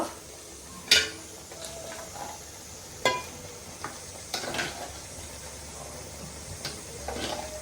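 Raw green masala fries in a pan for fish curry. A soft, constant sizzle sits underneath, and a few sharp metallic clinks and scrapes of a spoon against the pan cut through at irregular intervals.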